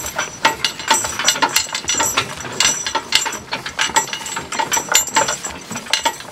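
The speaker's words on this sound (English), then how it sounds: "I was looking at what is making all the noise on this cart, and it's the steel against steel." A horse-drawn cart with a steel evener and chains rattles continuously: dense metallic clanking and jangling, steel knocking against steel, close and loud throughout with no talk.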